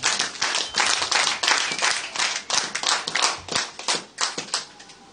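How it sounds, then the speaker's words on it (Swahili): A church congregation at a Sunday service claps loudly together in rapid, dense bursts that swell and ebb in a rough rhythm, tapering off toward the end. "Hebu tumpigie Bwana makofi makubwa"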